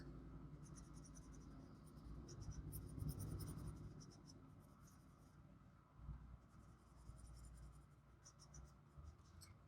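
Colored pencil shading on paper, a steady close scratchy rasp of strokes continuing without a break throughout.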